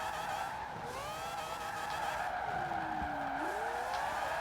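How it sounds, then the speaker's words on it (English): Tyres squeal in long, wavering skids as a rotary-engined race car is thrown sideways through a corner in Forza Horizon 4, with engine noise droning beneath. "Just chucking it through the corner sideways as possible actually gets you lap time on that certain corner."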